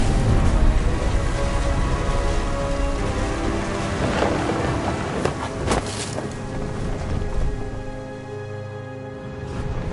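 A thunderstorm in the What Remains of Edith Finch video game, with dense steady rain, scattered cracks and rolling thunder, loud and continuous throughout without talk.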